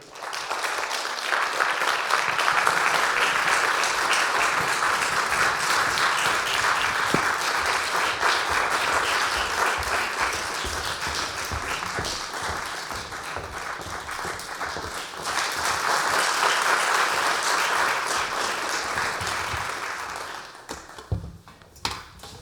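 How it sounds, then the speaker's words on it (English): A concert audience applauds the Dior Quartet as the string players come on, a full, sustained round of clapping that swells again midway and then thins out to a few last claps at the end. "So give a round of applause."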